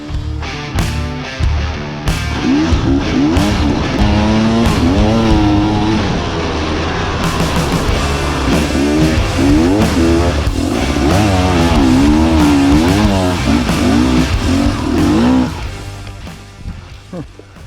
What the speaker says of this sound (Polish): ja znowu zrzucam motor i udaję się wprost na piaski Sahary